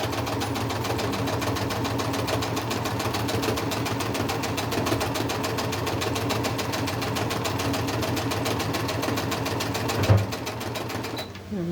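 A sewing machine stitches steadily over a seam in a crazy crumb quilt block, running as a fast, even, continuous mechanical chatter that is close and loud, with a brief bump near the end.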